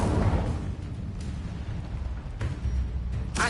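Incendio fire spell cast in Hogwarts Legacy, a continuous roaring, rumbling burst of flame that stays loud throughout, with brief swells partway through and again near the end.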